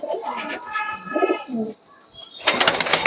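Chennai breed pigeons coo in a pigeon loft, with soft repeated throaty calls close by and a louder rustling burst near the end.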